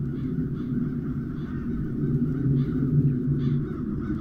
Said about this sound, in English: Those crows stem from the nether.